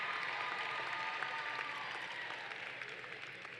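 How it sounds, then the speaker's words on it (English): Large audience at the 2023 Norfolk State University fall commencement applauds the graduates, a continuous dense rain of clapping heard from a distance, even and unbroken throughout. "let's give them a big round of applause"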